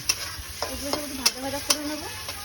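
Onion, garlic and green chillies frying in a pan, a steady soft sizzle broken by several clanking spoon strokes against the metal as the mixture is stirred, close and fairly quiet with no voices.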